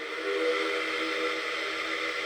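A steady, sustained whistle tone holds for a couple of seconds, mid-loud and even, from a Lionel model steam locomotive, with no pauses.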